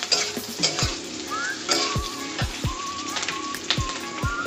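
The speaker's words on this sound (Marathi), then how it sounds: "त्यानंतर लालसर असा भाजायचा आहे कांदा।" Chopped onion sizzling in a pan as it fries toward a reddish colour for a hotel-style paneer dish, a steady crackle broken by several sharp scrapes and knocks of a stirring utensil, close and fairly loud with no voices.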